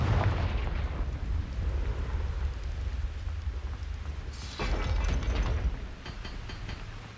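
Confringo fire spell cast in the Hogwarts Legacy video game, a loud sustained rumbling blast with crackling and a sharper burst midway, no talk.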